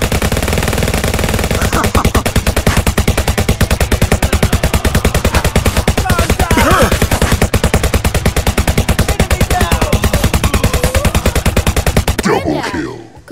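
Rapid, continuous gunfire from a pair of .45 caliber revolvers in the VR cowboy shooter Guns'n'Stories, loud and dense for about twelve seconds before cutting off, with faint voice fragments mixed in.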